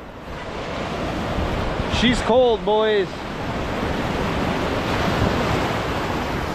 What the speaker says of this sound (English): But here's the sea, guys.